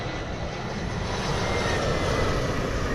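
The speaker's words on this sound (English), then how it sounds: "Delta Airlines 2113 A320 inbound from Atlanta" A Delta Airlines Airbus A320 jet inbound from Atlanta gives a steady, broad engine roar that holds at constant loudness, fairly near, with no voices.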